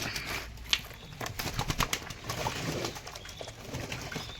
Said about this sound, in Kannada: ಸೊ ನೋಡ್ಬೋದು ಎಲ್ಲ ಅಕ್ಕಿನ ಸ್ನಾನ ಮಾಡ್ತಾ ಇದ್ದಾವೆ